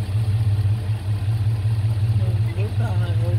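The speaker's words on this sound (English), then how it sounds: "That is a nice engine." A car engine idles steadily with a low, even rumble throughout, while voices talk over it near the end.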